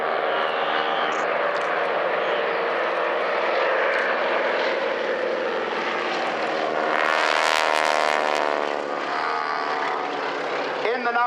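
A Breitling Wing Walkers display aircraft at Dunsfold Wings & Wheels airshow passes close with a loud, sustained propeller engine drone that swells and shifts in pitch as it flies by, while an announcer talks over it.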